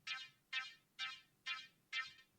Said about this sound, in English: And the second part of the sound is this percussive attack.